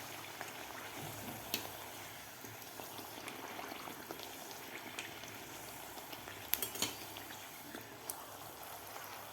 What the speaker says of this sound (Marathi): दोन्ही साईडकडून आपल्याला गोल्डन कलर होईपर्यंत पुरी तळून घ्यायची आहे.